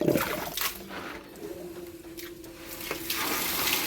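Water rushes and splashes from a newly opened valve in old plumbing at a steel water tank, a steady flow that swells slightly toward the end, with no speech.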